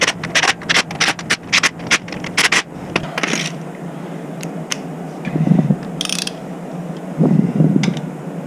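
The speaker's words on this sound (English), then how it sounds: "Just threading them in with the impact, super light." An impact wrench threads bolts into a diesel Ford Ranger with an OM603 engine swap, giving a rapid series of short hammering bursts close by, then quieter ratcheting clicks and metallic handling sounds.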